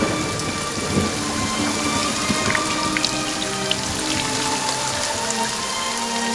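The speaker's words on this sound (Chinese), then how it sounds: "最近雨势还挺大" Heavy rain pours down in a dense, unbroken hiss, loud and steady, with low rumbling underneath and no voices.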